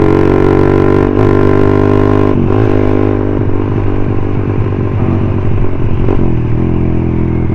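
A Suzuki Satria FU 150 motorcycle engine, running after the engine blew up, revs loudly at close range with a steady rattling drone, brief throttle blips and some mechanical clatter, with no voices.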